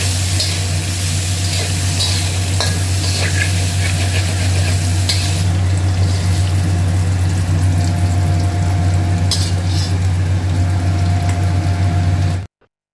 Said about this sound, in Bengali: তারপর সেই তেলের মধ্যে টুকরো করে কেটে রাখা আলু দিলাম।